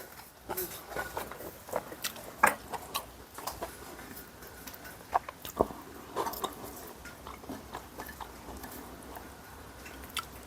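Close, quiet chewing and biting of Korean pancakes (kimchi, potato, green onion and pumpkin jeon), with irregular soft crunches and wet smacks scattered over a low background.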